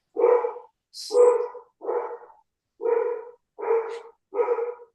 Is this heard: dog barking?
yes